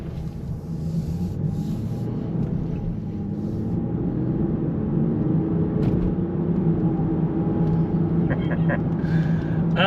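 Range Rover SUV driving on a road, a steady low engine and road rumble heard from inside the cabin, continuous and moderately loud, with a few faint clicks near the end.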